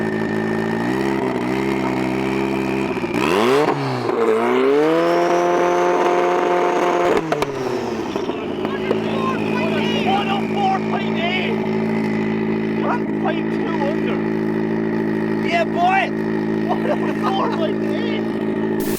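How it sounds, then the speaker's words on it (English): A 300 BHP MX5 drift car's engine idles, then revs up and holds a high steady note before dropping back to a rumbling idle during a noise test, loud and close throughout. "we did do a noise test on the car"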